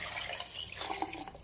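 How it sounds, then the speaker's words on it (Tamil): Water pouring into a cooking pot of simmering rice and lentils for a one-pot dish, a steady close splashing and bubbling wash with a few brighter drip-like plinks, no talking. "இப்போ வந்து நம்ம தண்ணி ஊற்றிக்கலாம்."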